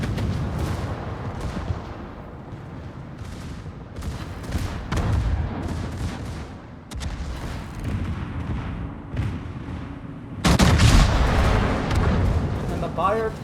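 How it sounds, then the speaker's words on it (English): A warship's secondary guns in a naval battle game, repeated booming shots in irregular bursts over a constant rumble, with a voice talking throughout. "Cap's secondary should be going off"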